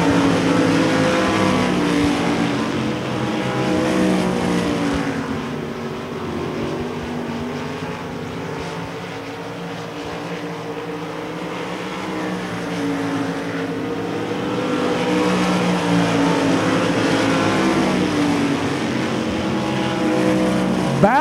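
Race cars roar continuously around the Devil's Bowl Speedway track, loud sustained engine noise rising and falling as the field passes, with no talk in the clip.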